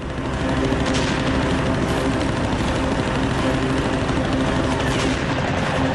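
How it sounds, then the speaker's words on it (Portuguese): Machine gun fire from a Japanese Oscar fighter plane during a dogfight with a P-40, a continuous loud rattle of rapid shots over a roaring aircraft engine. "A 60 metros de distância, o caça japonês dispara."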